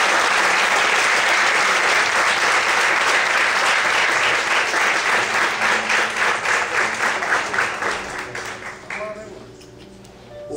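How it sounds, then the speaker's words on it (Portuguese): A church congregation claps for the Lord, a dense, loud wash of hands that settles into a rhythmic beat, then fades near the end as a voice and soft instrumental tones come in. "Vamos aplaudir o Senhor."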